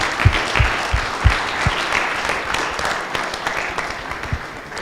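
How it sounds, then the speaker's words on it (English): An audience at a company all-staff meeting applauds with scattered claps that start strong and settle into a steady patter, fairly close. "So I just want to give a round of applause to everybody"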